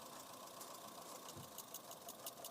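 Misfiring Honda City i-VTEC engine idling unevenly, a low steady rumble with faint rapid tak-tak knocks repeating through it, heard from close by.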